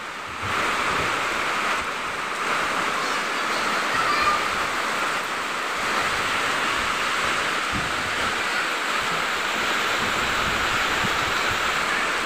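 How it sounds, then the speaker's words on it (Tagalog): Steady, dense rushing hiss of heavy rain, loud and unbroken throughout, with no voices. "Bumalik na naman yung ulan mga kaibigan, ng lakas."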